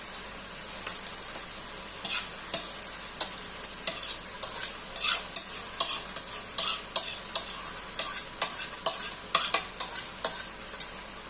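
Flattened rice mixed with turmeric and lemon juice is stirred in a hot pan, with a continuous sizzle and repeated scraping strokes of the spoon, close and fairly loud.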